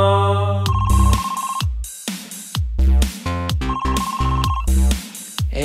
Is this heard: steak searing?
no